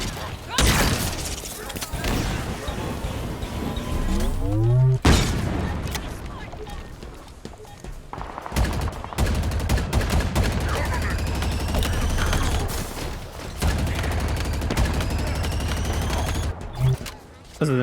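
Gunfire in the video game Halo Infinite: loud bursts of rapid shots and booming blasts in quick volleys, with a voice talking over parts of the action.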